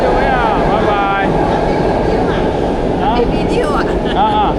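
An LRT3 light rail train carries a family near Johan Setia, its steady loud rumble and rolling rail noise filling the cabin, with people talking over it throughout.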